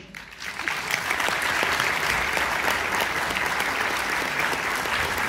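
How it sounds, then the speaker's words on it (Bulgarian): Steady, dense applause from a concert-hall audience welcoming a children's choir onstage at a celebratory concert, holding at an even level for the whole stretch with no talk over it. "Да ги посрещнем с аплодисменти."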